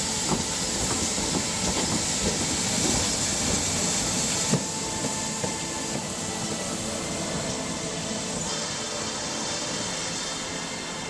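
A steam train on the Severn Valley Railway at the Bridgnorth terminus rolls past with a continuous hiss of steam and rumbling wheels, a few clanks and clicks rising through the steady noise.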